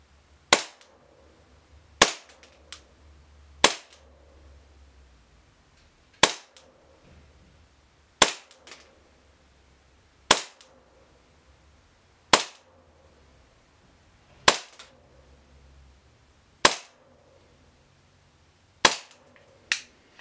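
A KJW KP-08 gas airsoft pistol running on domestic propane fires ten BBs through a chronograph, each shot a sharp, loud crack spaced about two seconds apart, standing alone with no talk.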